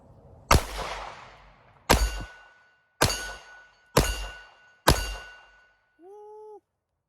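A SIG Sauer P365 X Macro Comp pistol fires Winchester Silver Tip 147-grain jacketed hollow-point rounds, five sharp loud shots spaced about a second apart with ringing tails, followed by a brief electronic beep.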